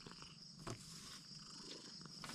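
A white-and-black faced cat purring steadily in a quiet rural hut, a soft continuous rumble close by with a few faint brief sounds around it.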